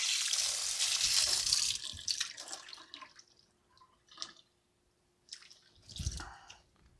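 Water from a kitchen tap runs into a sink while a container is rinsed, a steady rush for the first two seconds, then softer splashes, drips and handling sounds.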